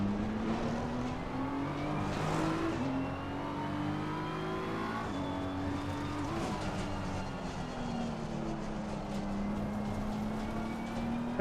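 A race car engine in the racing game Assetto Corsa Competizione whines steadily, its pitch rising and dipping as it revs and shifts, loud and continuous with no voices.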